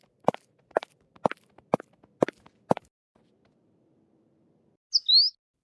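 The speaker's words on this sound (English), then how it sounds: "What a big bird." A bird gives six sharp, evenly spaced calls, loud and close, then falls quiet before a brief higher chirp near the end.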